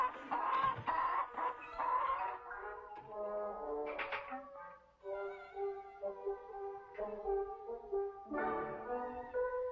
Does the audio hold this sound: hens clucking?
yes